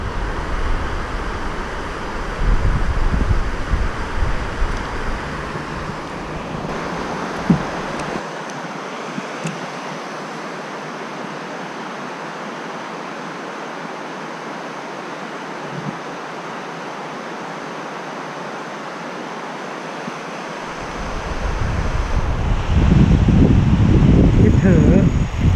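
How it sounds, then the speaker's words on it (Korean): Strong wind roars at an outdoor spot while fishing for Korean aucha perch, buffeting the microphone with heavy low rumble that dips briefly in the middle, then surges again. "아, 바람 너무 많이 부는데."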